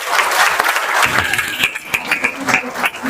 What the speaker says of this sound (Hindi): अपने हाथों को उठाकर ताली बजाएं।